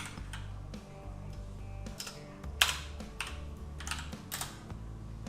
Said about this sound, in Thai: แล้วเราพิมพ์ค้นหาคำว่าสวิต